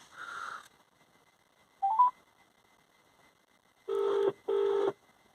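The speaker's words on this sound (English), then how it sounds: "And we can hear that ringing, so that seems to be working." A phone call rings through the Bluetooth-connected aftermarket Android radio in a VW Crafter or Mercedes Sprinter van, a few short electronic tones followed by two clear rings separated by silence.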